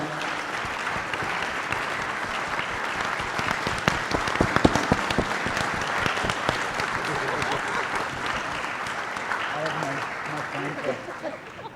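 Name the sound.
conference audience applause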